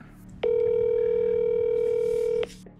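Steady single telephone tone on an outgoing call, about two seconds long and loud, starting and stopping abruptly over faint background hiss, with no voices.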